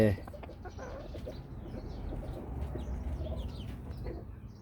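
Small young chickens cluck and chirp softly at a quiet, moderate distance, with scattered bird calls over faint background rustling.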